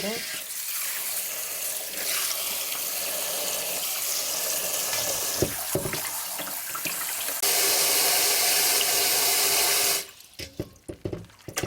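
Bo tree berries being washed under running water in a kitchen sink, with a steady loud stream of tap water and splashing that cuts off near the end, leaving a few faint knocks.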